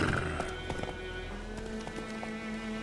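A horse gallops with rapid clip-clop hoofbeats and lets out a neigh in the video game Witcher 3, moving through a forest road, loud and close with no talk.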